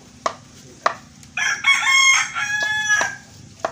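A rooster crows loudly nearby, one long drawn-out call preceded by a few sharp clicks or taps.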